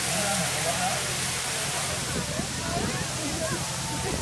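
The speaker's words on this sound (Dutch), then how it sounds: "zoals beloofd, de douche in werking" Outdoor showers run steadily after a mud race through a ditch, a continuous broad rush of spraying water with a diffuse crowd murmur beneath it.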